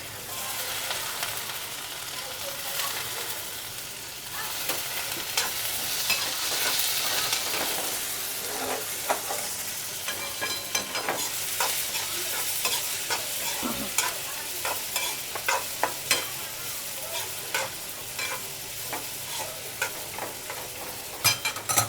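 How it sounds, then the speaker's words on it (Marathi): Cluster beans are stir-fried in a pan with a steady sizzle under repeated stirring and scraping of a spoon, close and continuous, with the clicks of the spoon growing more frequent toward the end and no talking. "आता हे स्वच्छ धुवून गवार टाकते"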